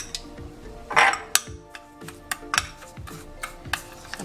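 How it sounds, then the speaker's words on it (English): A spoon stirring sugar into a homemade lip scrub in a small bowl, with repeated scraping and clinking strokes in an uneven rhythm, close and fairly clear. "I'm just gonna mix it together"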